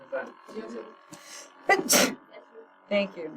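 A single sharp sneeze bursts out loudly amid quiet conversation, with people talking before and after it.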